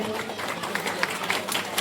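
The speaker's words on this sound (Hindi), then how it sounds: "ताली बजाएंगे सभी लोग।" Audience clapping at a school inauguration ceremony with a lamp lighting, a moderate patter of hands in a hall, scattered sharper claps over a busy background.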